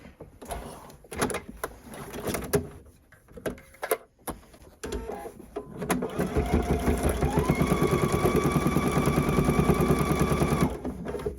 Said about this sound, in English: My Pfaff Performance Icon comes with a built-in walking foot, so I engage it all the time.